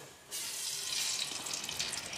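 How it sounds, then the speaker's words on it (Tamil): Coconut oil poured into a hot pan on a stove, a steady broad hiss and splash that starts abruptly and continues fairly loud and close, with no talk. "இப்ப சட்டி அடுப்புல வச்சுட்டோம் சூடாகிட்டு இதுக்கு கொஞ்சம் ஆயில் மட்டும்தான் ஊத்துறேன்"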